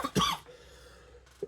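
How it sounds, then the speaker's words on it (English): A woman lets out one harsh, close cough that is loud and rough, then draws a quiet breath and gives a brief sound at the end. "all I keep doing is bloody coughing"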